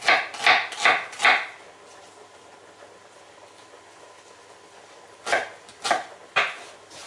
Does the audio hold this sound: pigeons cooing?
no